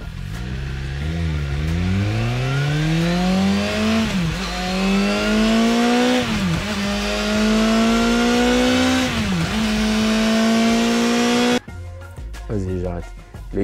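A four-cylinder 1000 cc roadster motorcycle engine revs up repeatedly, its pitch climbing in long sweeps and dropping between pulls, loud and close, with a brief lull near the end before another rise.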